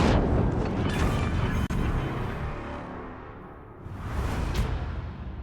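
Torpedoes launched from a warship in the naval combat game World of Warships Legends, heard as a loud, sustained rushing boom that swells again toward the end, with no talking.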